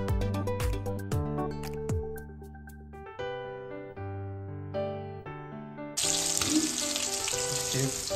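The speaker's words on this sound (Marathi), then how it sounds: "तर आपल्याला आता याच्यामध्ये कांदा घालून घ्यायचा आहे. मस्तपैकी त्याला लालसर होईपर्यंत त्याला फ्राय करून घ्यायचं आहे आपल्याला." Chopped onion fries in hot oil with curry and bay leaves for a kaleji masala, giving a steady close sizzle under tonal background music that swells into a louder, denser crackle in the final seconds.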